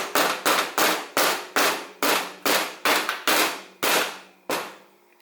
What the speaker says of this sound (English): just take something nice and heavy. This nice little spool of safety wire.